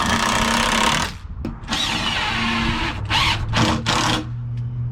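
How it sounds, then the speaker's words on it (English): A power drill driving screws through a scrap board into a wooden gate frame: loud continuous whirring in several bursts, with pitch shifts as the screws bite, and short pauses between runs. "drive in a couple screws into the frame of our gate from that scrap board"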